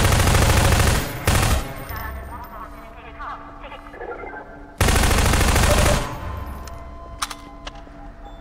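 Automatic weapon fire in Half-Life 2 comes in two loud close bursts of rapid shots with quieter game sounds between them and a few faint clicks afterward.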